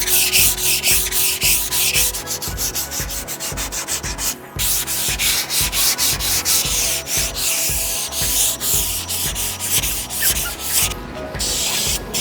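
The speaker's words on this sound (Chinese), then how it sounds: "我们用800的砂纸给它磨掉" A fiberglass car body part is hand-sanded with 800-grit sandpaper, giving a rapid, rhythmic back-and-forth scratching of short strokes, close and loud, with a brief pause partway through.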